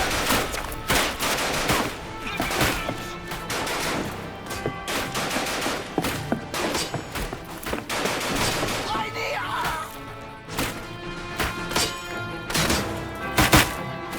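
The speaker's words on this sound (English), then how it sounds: "Machine gun!" Machine gun fire rattles in the video game Ad Infinitum: loud, rapid bursts and volleys repeat across the whole stretch, with heavy thuds mixed in and faint shouting voices underneath.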